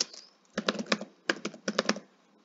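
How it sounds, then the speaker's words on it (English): Three short bursts of clicky keystrokes on a computer keyboard as a job search is entered on LinkedIn, close and clear with small pauses between groups. "I just want to type in financial recruiter again."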